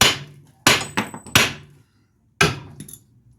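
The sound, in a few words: hammer blows during wheel bearing replacement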